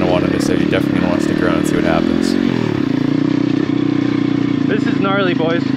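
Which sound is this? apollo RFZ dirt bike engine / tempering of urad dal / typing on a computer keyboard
apollo RFZ dirt bike engine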